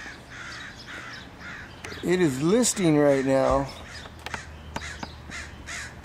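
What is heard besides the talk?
bird calling nearby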